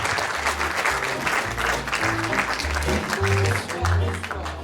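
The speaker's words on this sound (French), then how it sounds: "je vous demande de faire un tonnerre d'applaudissements" An audience at a magic gala applauds a young magician on stage, with sustained dense clapping from a large crowd that holds steady throughout, plus scattered rhythmic accents.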